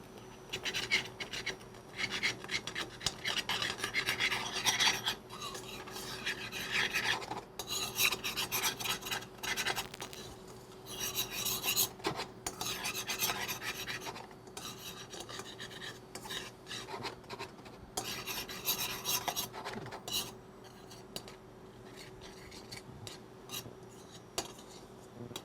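A spoon scrapes and rasps steadily across a pan, loosening beef roulade drippings for a sauce, in a continuous close-up scratching that goes on for a long stretch with only brief pauses.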